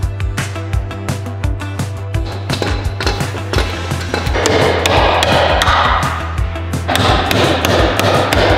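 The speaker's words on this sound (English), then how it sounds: "just hammering it out" A hammer pounds dents out of a body panel on a wrecked Porsche Cayman GTS, with loud, evenly spaced metallic blows repeated throughout over a low steady hum.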